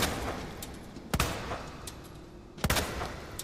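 Two sharp, distant pistol gunshots in the Resident Evil 2 remake video game ring out more than a second apart over a quiet background hum.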